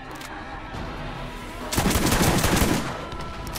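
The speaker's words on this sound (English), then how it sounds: "I'm literally just gonna... just keep shooting at it." Rapid automatic gunfire from the video game Borderlands starts suddenly partway through and rattles on for about a second, loud and close, over a steady low background.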